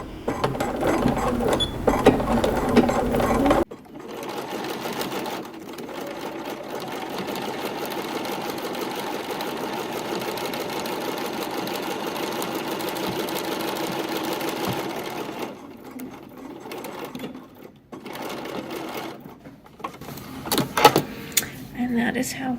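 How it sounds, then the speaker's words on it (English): A sewing machine runs a long basting stitch through dress fabric, a steady mechanical whir held for about eleven seconds with short pauses, preceded by louder talk and followed by brief handling sounds. "set for the long basting stitch"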